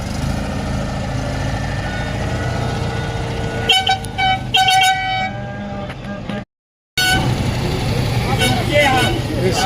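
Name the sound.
vehicle horn honking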